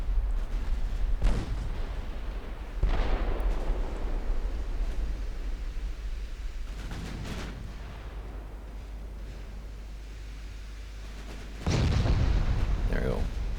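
Heavy 9-inch naval guns booming in the warship game Ultimate Admiral Dreadnoughts: several loud, widely spaced blasts, each trailing into a low rumble over constant battle noise.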